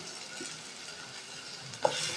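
A thick tomato and onion paste is stirred into a simmering gravy in a pan, giving a low, steady bubbling sizzle with one brief scrape of the spoon.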